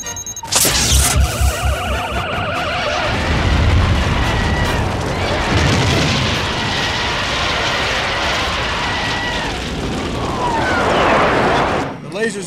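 Sci-fi laser weapons fired from a satellite at a monster, with a loud, dense barrage of zapping beams, rumbling blasts and sweeping tones running almost continuously throughout, partly under voices.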